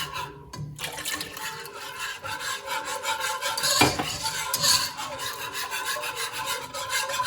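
Milk being whisked into a homemade béchamel sauce in a pan, a continuous scraping, rubbing stir with rhythmic swishing, close and steady throughout with no talk.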